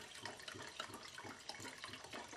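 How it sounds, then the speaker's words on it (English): Denatured alcohol pours from a one-quart can into a jar to mix shellac, making a soft, continuous liquid trickle that stays faint and steady throughout. "I'm going to pour in about half of it."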